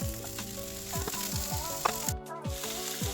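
Softened, lightly browned onions and freshly added vegetables sizzle in a hot pan, a steady close frying hiss with occasional stirring scrapes and no voices.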